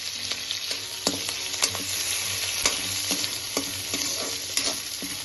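Raw peanuts and curry leaves frying in hot oil in a pan, a steady bright sizzle with repeated stirring scrapes and clinks throughout, close and continuous with no talking.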